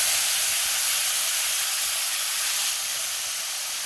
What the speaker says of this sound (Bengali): আমি আলু আর গাজরটা আগে ভেজে নেবো